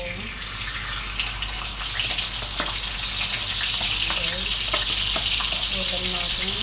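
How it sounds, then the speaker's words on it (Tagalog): Galunggong fish frying in hot oil, a dense steady crackling sizzle close by that grows slightly louder after the fish goes in, with faint clinks underneath. "ngayon ay magprito tayo ng galunggong, guys. Ilagay tayo ng galunggong."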